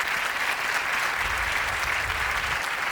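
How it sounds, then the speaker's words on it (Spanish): Audience applause for a chef at the Gastrónoma 2019 gastronomy event, a steady, dense clapping from a large crowd that fills the room for about three seconds without a break and with no voices on top. "Un aplauso también para él, por favor."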